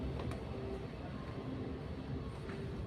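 Steady, close rumble of a Dubai Metro train at Etisalat metro station, a continuous rolling drone with faint hiss and no voices.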